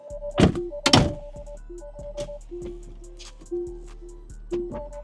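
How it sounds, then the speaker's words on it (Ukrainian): Two loud thunks as all the car's door locks engage almost together from one button, followed by a series of softer mechanical clicks and ticks in a quiet car interior. "Сідаємо в машину, нажимаємо закрити всі двері."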